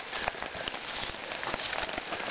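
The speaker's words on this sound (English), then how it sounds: "you can just hear it's downpouring pretty good" A heavy rain downpour falls through pine woods, a dense steady hiss of drops close by with no voices.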